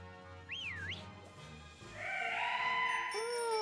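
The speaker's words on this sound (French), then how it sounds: "Mais pourquoi tu siffles?" A child whistles a wavering, rising-and-falling tune at close range, followed by a longer bright sustained whistle with gliding pitch, alone with no talk.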